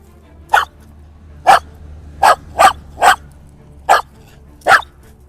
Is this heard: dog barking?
yes